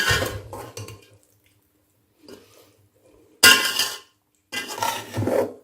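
Cooked mutanjan rice is stirred in a pot with a spoon, giving short bursts of scraping and clinking against metal separated by quiet pauses.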